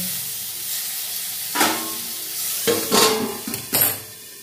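Potatoes stirred with turmeric in a pan over low gas, then covered; a soft steady sizzle runs beneath several sharp scraping clatters of the spoon against the pan.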